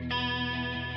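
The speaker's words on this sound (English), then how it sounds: "So this is soloing my electric guitar. This is how it sounds. Without the Camel strip," Solo electric guitar without a channel-strip plugin, a single sustained chord ringing steadily for about a second, tonal and moderately quiet, with no voices.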